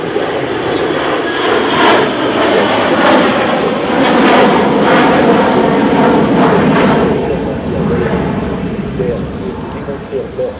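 A Dassault Falcon 6X business jet with two Pratt & Whitney PW812D engines flies a demonstration at the 2023 Paris Air Show. It makes a loud, steady, broadband roar that swells and then slowly eases over ten seconds.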